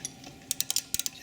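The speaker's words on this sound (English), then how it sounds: "just grab yourself a size 11 socket, put that over the top and just undo it a little bit" Ratcheting socket wrench with a size 11 socket loosening a brake caliper bolt on an Audi Q7, giving two short bursts of three or four crisp clicks each, close and clear over a quiet background.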